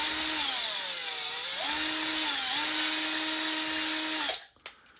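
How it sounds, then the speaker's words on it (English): A power drill with a 1/4-inch bit whines steadily for about four seconds, its pitch dipping and recovering as it pushes along the edges of a hole, then cuts off abruptly, close and loud. "just run your 1/4-inch drill bit again and just kind of push along the edges as you're drilling"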